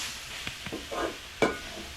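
Chopped banana flower and drumstick leaves sautéed together in a pan for a stir-fry: a few quiet spoon scrapes and stirs over a faint, soft sizzle, close by and with no voices.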